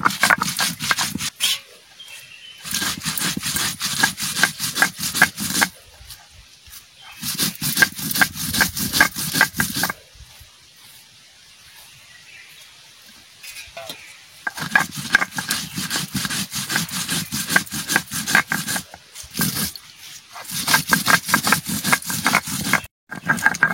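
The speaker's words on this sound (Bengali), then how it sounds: "ধুইনা, জিরা আর গোলমরিচ আমি একসাথে বেটে নিচ্ছি।" Coriander seeds, cumin and black pepper crushed together on a grinding stone, giving repeated rhythmic scraping, rubbing strokes in bursts with short pauses, close and fairly loud.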